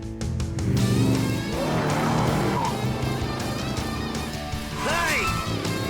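A driverless cartoon race car runs red lights through town in Transformers: Rescue Bots, its engine roaring with squealing tires and crash-like hits. Voices are heard throughout.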